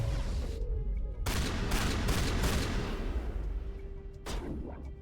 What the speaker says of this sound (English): I like this shotgun.